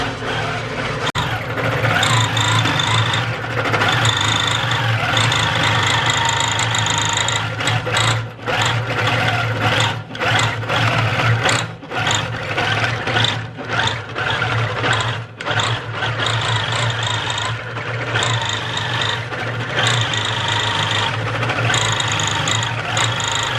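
A longarm quilting machine stitches patchwork bear quilt blocks with a continuous fast mechanical whir and motor hum that rises and falls slightly, with a few brief pauses and no talking.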